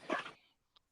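A dog whimpers and yelps in a short burst during a court status hearing, followed by a brief faint yip after a pause.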